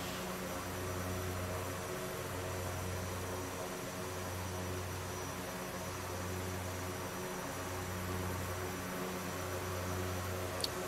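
Propeller engines of a DHC-6 Twin Otter in the X-Plane flight simulator, a steady droning hum with a slow rhythmic pulsing beat, constant and moderately loud, with no talking.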